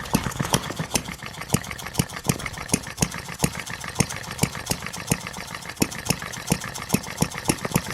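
A 1/8 scale model Reid engine runs slowly and steadily, close by, firing in an even train of sharp popping beats with a constant hiss underneath.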